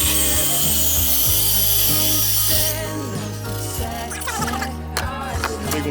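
An old Skil circular saw cuts fiberglass boat reinforcement, starting with a loud high whining buzz that drops away midway into rougher rubbing and clattering, close up and without speech.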